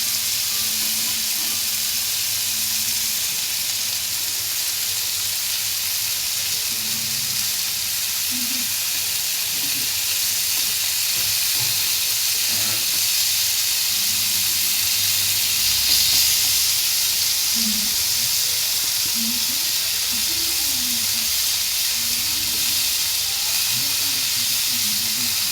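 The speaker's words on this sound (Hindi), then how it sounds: "चिकन हमारा फ्राई हो रहा है" Chicken pieces for butter chicken fry in a pan over a low flame, giving a steady, loud sizzle that runs unbroken throughout with faint crackles.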